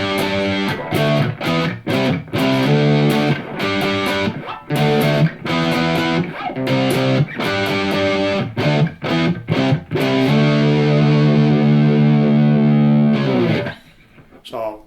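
An electric guitar plays a chugging, palm-muted riff through a Blackstar HT Club 40 amp on its overdrive channel with British voicing, giving a loud, distorted tone in choppy bursts before it rings out and fades.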